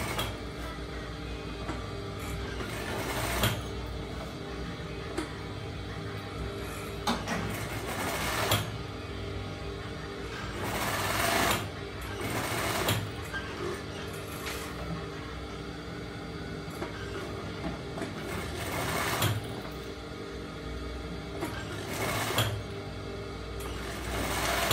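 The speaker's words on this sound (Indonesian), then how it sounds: "lalu kita jahit di masker bagian tepi untuk membalut kampuhnya" A sewing machine stitches folded bias binding along the edge of a transparent face mask, running in steady mechanical bursts separated by short pauses, close and moderately loud with no talking.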